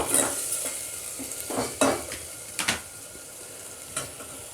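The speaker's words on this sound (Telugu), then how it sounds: "మొత్తం యాడ్ చేసి ఇలా కలుపుకోవాలి మొత్తం" A spoon stirs gongura boti curry in a pan, giving a series of scraping, clinking strokes over a soft sizzle, close and irregular in rhythm.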